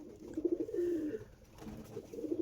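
A Star Kalanka pigeon cooing close by, a soft throaty rolling coo that rises and falls, then a brief pause before another coo begins near the end.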